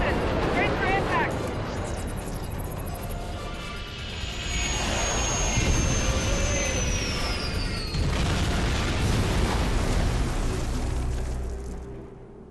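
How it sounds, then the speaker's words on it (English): A spaceship crash landing in the Star Trek Online video game: loud, sustained rumbling roar with a descending whine and heavy impact noise over twelve seconds, dialogue running beneath it. "Get us on the ground, Commander. Crash position. Brace for impact."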